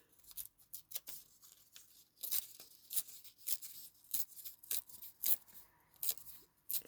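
Paper is torn by hand for a junk journal, a quiet series of short close ripping bursts separated by pauses, some quick, some drawn out.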